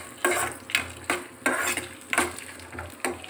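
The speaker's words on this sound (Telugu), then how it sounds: "తర్వాత ఇందులో కొంచెం శనగపప్పు వేసుకుందాం ఇవన్నీ మంచిగా ఫ్రై చేసుకుందాం" Chana dal frying and being stirred in a pan for coconut rice, a soft sizzle under regular scraping strokes of a spoon, about one stir every half second, close by, with no talking.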